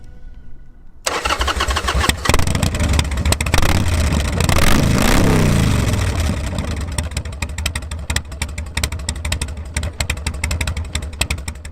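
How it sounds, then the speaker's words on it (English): A Harley-Davidson Sportster's V-twin fires up after a starter whir, then barks and revs through a loud modified exhaust before settling into a heavy, lumpy idle, close and alone. "Now I know that's a really loud exhaust"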